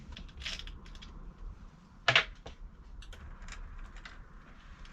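Allen key works on a bicycle's rear axle as the back wheel comes off, giving faint metallic clicks and ratcheting, with one sharper clank near the middle and quiet handling noises around it.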